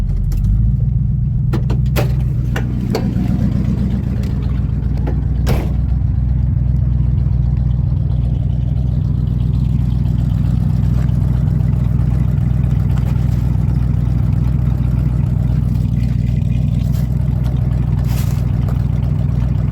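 A car doing a short burnout, its engine held at a loud, steady high rev for the whole stretch, with a few sharp bursts near the start.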